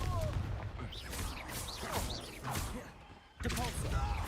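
The Confringo blasting spell from Hogwarts Legacy goes off in a series of sharp explosive bursts and thuds amid combat, with a brief lull before a final loud blast; voices call out during the fight.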